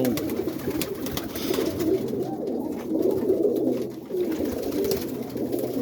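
Boston roller pigeons coo in soft, repeated low calls that overlap in a continuous murmur close by, alone with no talk.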